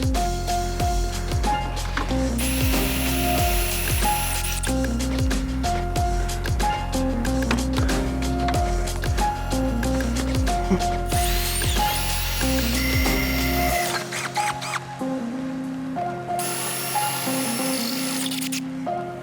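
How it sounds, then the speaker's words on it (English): A power drill with a 25/64-inch bit whirs in bursts, drilling holes for rib nuts to mount Jeep JL/JT front inner fender liners, its motor whine rising and falling over steady mechanical noise, with brief pauses between holes. "Now we're going to drill the final holes with our correct drill bit size of 25/64"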